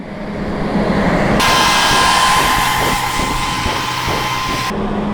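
A passenger train at Narail railway station gives a loud, steady roar with a rhythmic pulsing underneath, which starts abruptly and stops as abruptly, over a constant low rumble.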